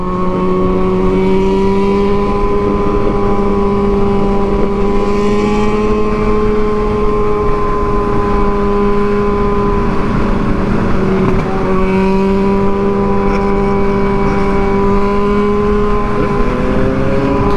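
A motorcycle engine drones loudly at night on a multi-lane road, holding a steady high-revving tone with slight pitch shifts, close and continuous with no talking.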